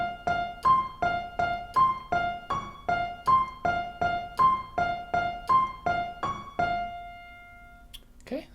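A piano picks out the Halloween theme as a fast, evenly pulsed repeating pattern of single notes, about a dozen cycles, close and clear, then a final note decays and a faint sound follows.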